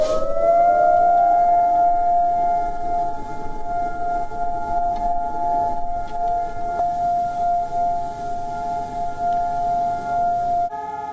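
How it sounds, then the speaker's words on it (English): Israel's two-minute Holocaust Remembrance Day siren, a single sustained, steady wailing tone that holds loud and unbroken throughout, with a faint background murmur beneath it. "The sound of a 2-minute siren brought Israel to a standstill."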